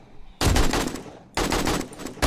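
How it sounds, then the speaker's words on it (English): Two quick bursts of AK-47 fire from the video game 7 Days to Die, each a loud, rapid rattle of shots. A short pause separates the bursts. "it'll give me three shots"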